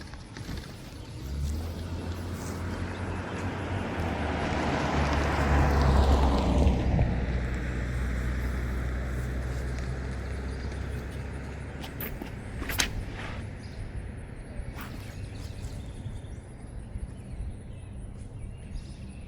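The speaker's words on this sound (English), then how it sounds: "So as soon as this car passes" A car passes by on a road, its tire and engine rush building gradually, peaking midway, then fading into the distance, with faint outdoor ambience and a few light knocks afterward.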